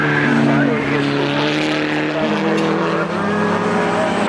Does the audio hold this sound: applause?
no